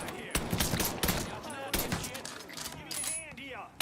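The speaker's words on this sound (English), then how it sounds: "That man just got shot." Mafia 3 video game gunfire bursts out in several sharp, close shots with ringing tails, and a voice talks over part of the shooting.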